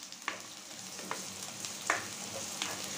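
Garlic frying in a pan for homemade adobo, a steady close sizzle with soft crackles and a few light scrapes of stirring, no talk.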